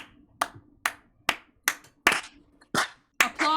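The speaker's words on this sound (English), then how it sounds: "Applause to keep me awake." A sleepy streamer claps hands alone, seven sharp, evenly spaced claps ringing out close to the mic in a quiet room, with a faint breathy voice in the gaps.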